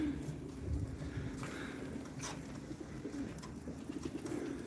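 Soft pigeon cooing in the background over a low, steady rumble, with faint scattered clicks.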